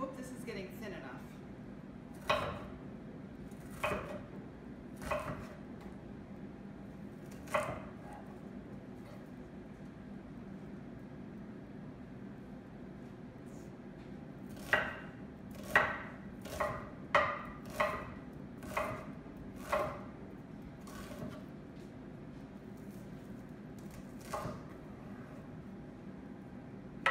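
Knife slicing onions thinly on a board for pickling, a series of sharp separate cuts with pauses between them, then a quicker run of cuts in the middle, over a low steady room hum.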